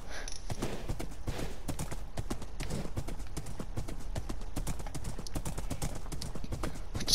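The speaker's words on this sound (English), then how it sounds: "It's so much faster with a horse." Horse hooves gallop across the ground in Minecraft, a steady, rapid clip-clop beat that runs loud and close without a break.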